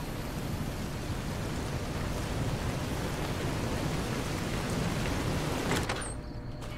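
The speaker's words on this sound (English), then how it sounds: "Ooh, look, rain." Steady, dense rain noise in the game Fallout: New Vegas, a constant loud hiss that cuts off sharply near the end.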